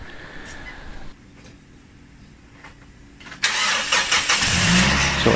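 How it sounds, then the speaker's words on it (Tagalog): Faint clicking of an ignition is followed by a car's 1.3-liter engine cranking on a jump starter and catching, then settling into a loud, steady running rumble close by. "nag-start po yung engine"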